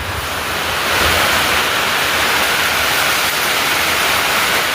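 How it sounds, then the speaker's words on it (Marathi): A loud, continuous roar of heavy unseasonal summer rain falling on a shop without a shutter, a dense steady hiss with no pauses or voices. "एकदम जोरदार पाऊस आहे"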